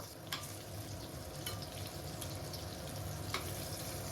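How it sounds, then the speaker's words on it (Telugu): Brinjal and potato pieces fry in a pan with a steady close sizzle, broken by a few brief stirring scrapes, and no voices. "ఇప్పుడు ఈ వంకాయ ముక్కలు కూడాను బాగా ఫ్రై అవ్వనివ్వాలి"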